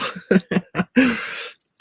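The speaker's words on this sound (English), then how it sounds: "let me clear my throat" A quick run of four harsh throat-clearing bursts, then one longer rasping clear, close up.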